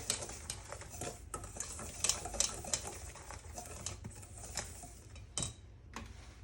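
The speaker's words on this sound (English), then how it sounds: "And I am going to mix up my dry ingredients." Dry ingredients with baking powder mixed in a bowl, light scraping and patter with small clinks of a utensil against the bowl, close and fairly quiet.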